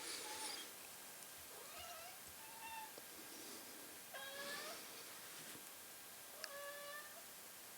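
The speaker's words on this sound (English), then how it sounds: "Cats want to get fed." Hungry cats meowing to be fed, several distinct meows spaced through the stretch, some rising and bending, heard fairly close over a quiet hissing background.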